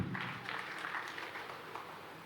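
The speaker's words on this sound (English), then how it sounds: "Please, another round of applause for him." An audience at the formal unveiling ceremony for General Yakubu Gowon's autobiography gives steady, sustained applause that fills the hall from start to end.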